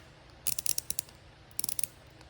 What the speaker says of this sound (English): I did get this 1/8 inch ratcheting